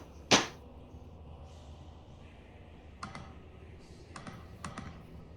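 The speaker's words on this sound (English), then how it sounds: "Oh no, I hear typing." A few faint, scattered keyboard clicks of typing come through in a quiet room, preceded by one sharper louder click near the start; no one speaks.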